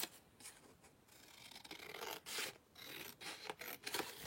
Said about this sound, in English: So I'm just going to quickly cut this out.